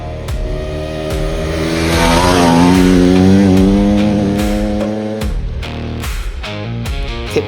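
A small 300cc dirt motorbike ridden hard, its engine note climbing and falling through loud revs and gear changes, then dropping to a rougher, choppier idle-like burble near the end.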